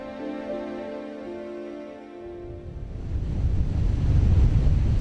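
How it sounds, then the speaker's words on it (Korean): Strong waves and gusting wind buffet an island harbor after a typhoon, a broad roar of surf that swells louder toward the end, with steady wind rumble and no voices. "태풍이 한바탕 섬을 휘갈키고 간 후에도 세찬 파도와 바람이 섬을 맴돕니다."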